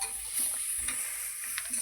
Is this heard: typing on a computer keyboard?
no